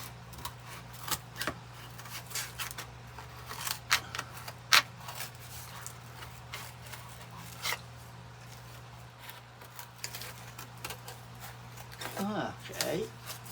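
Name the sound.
scissors cutting around a Christmas boot craft shape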